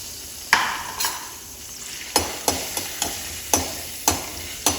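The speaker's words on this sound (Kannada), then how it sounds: "ಚೆನ್ನಾಗಿ ಫ್ರೈ ಆಗಬೇಕು ಶೇಂಗಾ" Peanuts and mustard seeds fry in a pan over a soft background hiss, punctuated by about a dozen sharp, close clicks and pops at irregular intervals.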